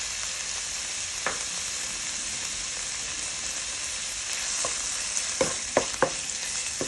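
Pork stir-fries with garlic in a pan for pad thai, giving a constant, close hiss of sizzling oil broken by a few sharp spatula taps and scrapes near the end.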